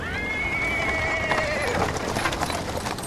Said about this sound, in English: He is interrupted by the sound of wheels rolling on the paving stone. A cart drawn by a sad little horse appears